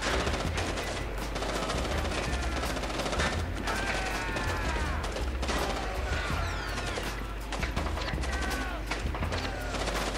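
Gunfire in the video game Splinter Cell: Chaos Theory, with dense, continuous automatic bursts and clattering mechanical noise under occasional speech.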